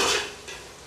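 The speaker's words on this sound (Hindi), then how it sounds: "इन सब मसालों को जो है प्याज के अंदर 1 मिनट तक ऐसे भूनते हैं इनको" Spices and ajwain being fried in hot oil with onion, a close continuous sizzling hiss with a brief stirring scrape partway through.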